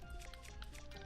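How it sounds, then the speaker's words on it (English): Footsteps wading through water in Zelda: Breath of the Wild, with a steady run of soft splashing, squishing and dripping close up, accompanied by constant game tones. "See, you are walking in water."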